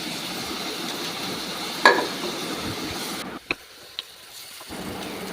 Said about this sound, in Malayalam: അതിലേക്ക് ഉള്ളി ഇട്ട് നന്നായി വഴറ്റുക.